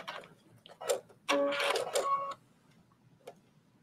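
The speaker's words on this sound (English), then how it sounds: "Do one little stay stitch just to make sure that your stitches don't come out." A sewing machine runs a stay stitch on a trench coat collar in a quick, buzzing burst of about one second. A few soft clicks and taps come before and after it in an otherwise quiet room.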